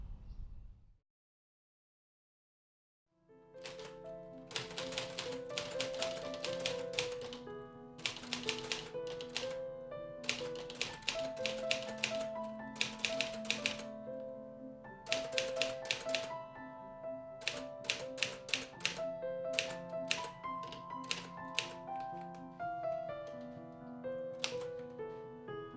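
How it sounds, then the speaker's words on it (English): An old typewriter clacks steadily in quick bursts of keystrokes, close and crisp, with occasional carriage-like pauses and dings, after a brief silent start; no voices. "with the help of an old typewriter, she tells stories"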